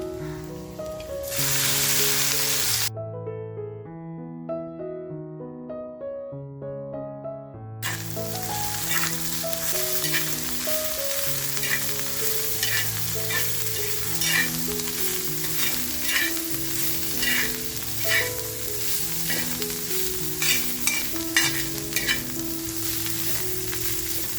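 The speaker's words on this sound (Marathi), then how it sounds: "आता जो ठेचा करून घेतला आहे तो आपण याच्यामध्ये तेलामध्ये मस्त असा फ्राय करून घेऊया." Crushed karandi (dried shrimp) thecha with garlic and asafoetida fries in hot oil, giving a steady crackling sizzle. It is interrupted once by a short gap, then returns with stirring scrapes over background music.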